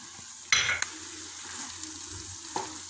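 A spoon stirs spiced cabbage roll filling seasoned with cumin, black pepper, chili flakes, mint and parsley, giving two short scraping bursts separated by a quiet pause, close and alone with no talk.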